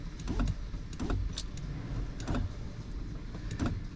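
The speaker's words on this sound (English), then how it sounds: "Just trying to roll the window up." A Chrysler van with rodent-chewed wiring whose power window motor whirs in short, repeated bursts, straining and stopping every second or so instead of running smoothly, heard up close inside the vehicle.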